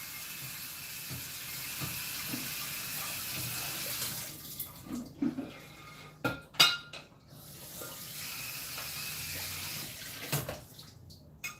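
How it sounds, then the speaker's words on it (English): Tap water runs steadily into a sink as a dish is rinsed, with soft clinks and splashes of handling in the second half; no voices. "That just needed a quick rinse."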